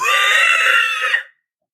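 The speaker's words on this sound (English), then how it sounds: "she gets attacked and lets out this scream that sounds like a dying animal combined with the worst fear that you've ever heard in your life" A woman's terrified scream during an emergency 911 call, one loud, sustained, shrill cry lasting over a second before cutting off into silence.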